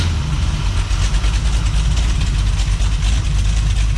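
A car engine with a freshly broken-in flat tappet camshaft idles steadily, a loud, close, even low rumble with a faint rhythmic pulse and no talking.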